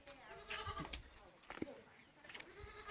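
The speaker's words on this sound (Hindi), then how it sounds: "यहाँ आ गई है बकरी।" A goat bleats a few times on a sunny rural Uttarakhand farm where sugarcane and sweet limes are being picked, its calls fairly close amid rustling and light background chatter.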